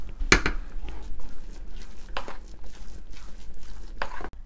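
Hot cooked rice for bisibelabath mashed with a ladle in a pot, a few sharp knocks of metal on the vessel spaced seconds apart with soft squelching and scraping between them.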